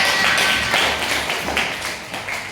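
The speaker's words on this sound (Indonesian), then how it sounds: "terima kasih tepuk tangan buat semua" Students in a classroom clap together, a continuous patter of close hand claps that stays even and then tapers slightly toward the end, with no voices.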